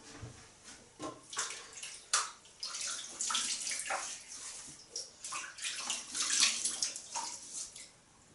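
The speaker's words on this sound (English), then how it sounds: "So we've wet the face." Water splashes in repeated handfuls as a face is wetted before washing with face soap, irregular close splashes rising and falling against a quiet running-water background.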